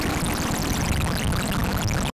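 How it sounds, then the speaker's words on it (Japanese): A Massive X synthesizer in Random wavetable mode gives a loud, dense, rushing noise like pouring water that holds steady, then cuts off abruptly. "まずランダム、周波数やウェーブテーブルをランダム化するモードです。"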